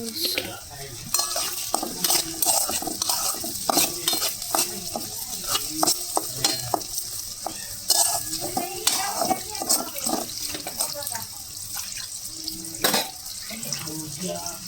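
Onions fry in a pan as green chillies are tipped in, with a busy crackling sizzle broken by frequent sharp scrapes and stirring clatters, close and fairly loud throughout.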